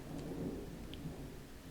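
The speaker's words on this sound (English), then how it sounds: "How loud does that lightning come through, or the thunder, I mean?" Low rumbling thunder from a nearby storm, a steady deep roll with faint rain-like hiss, quiet and continuous without speech.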